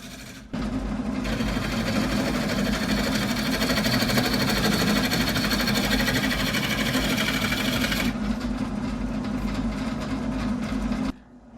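A steel scraper cuts an ash bowl spinning on a woodturning lathe, giving a loud, steady scraping whir that runs unbroken for about ten seconds and then stops abruptly.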